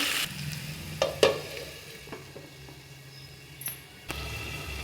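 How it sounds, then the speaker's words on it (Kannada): Tomatoes fry on a low flame for a tomato kurma, a soft steady sizzle with a few sharp utensil clinks and scrapes near the start and around the middle, no talking. "ಲೋ ಫ್ಲೇಮಲ್ಲೇ ಫ್ರೈ ಮಾಡ್ಕೊಳ್ಳಿ ಟೊಮೆಟೊ ಹಸಿ ಸ್ಮೆಲ್ಲೆಲ್ಲ ಹೋಗ್ಬೇಕು"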